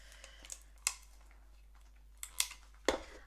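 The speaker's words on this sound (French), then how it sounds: "Je vais mettre le scotch" Sticky tape is torn and pressed on in a quiet indoor setting: a handful of short crackling snaps spaced irregularly over a few seconds, with near silence in between.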